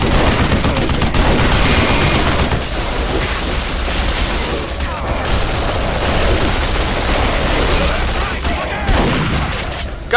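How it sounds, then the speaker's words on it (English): Heavy weapons firing in the Duke Nukem Forever video game, a dense, loud, continuous barrage of gunfire and explosive blasts lasting throughout, with game noise and speech mixed in. "I'm not very good at aiming these big guns."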